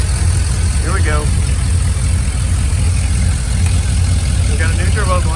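A 2001 Chevrolet Silverado with a turbocharged 5.3 engine idles steadily and loud throughout, a constant low rumble with faint whistling chirps drifting in and out.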